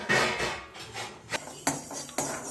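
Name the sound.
mustard seeds frying in a pan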